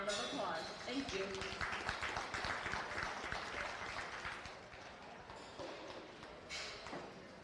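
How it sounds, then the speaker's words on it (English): Faint audience applause at a county fair sheep show, a dense patter of clapping from a crowd that gradually tapers off, with talk over it. "Let's give them another round of applause"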